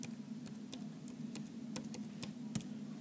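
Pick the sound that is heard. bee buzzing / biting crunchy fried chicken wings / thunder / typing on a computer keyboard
typing on a computer keyboard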